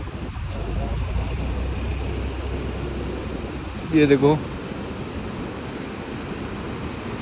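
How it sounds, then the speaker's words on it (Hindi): Water released from the side of a lake pours down like a small waterfall, a steady broad rush that stays loud and constant throughout, with a brief spoken remark partway through. "झील के इस साइड झरना सा बहता है जो इन्होंने पानी छोड़ा हुआ है"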